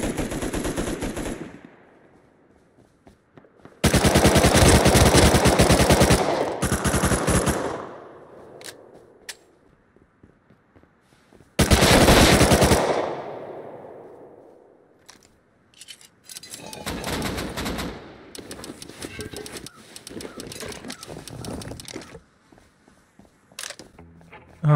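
Gunfire in the console video game Rust, a player getting shot in the back: loud bursts of rapid automatic fire in several separate volleys, some several seconds long, with quieter single shots and gaps between.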